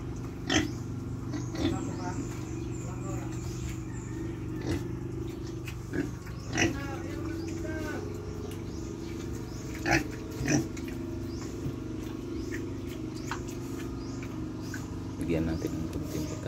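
Pigs bought from a neighbour's pig raiser grunt and snort close by at irregular intervals, with a few squeals, under steady talking.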